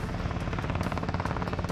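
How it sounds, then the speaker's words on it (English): Rescue helicopter flying overhead, its rotor blades giving a loud, fast, steady thudding chop over a dense engine roar, close and continuous throughout. "Captain Kate controls the helicopter by pointing the rotor blades in the direction she wants the helicopter to fly."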